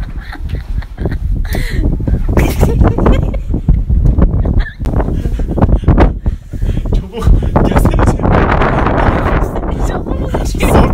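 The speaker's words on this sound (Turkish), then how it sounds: "Ya bu nasıl bir rüzgar?" Strong wind gusts through an open hotel window in Erzurum, loud irregular buffeting and roaring close to the microphone, with people talking and exclaiming over it.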